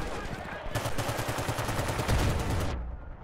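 Gunfire in the video game Battlefield Bad Company 2: a rapid burst of automatic shots, up close and loud, lasting about two seconds after a short lead-in of game noise.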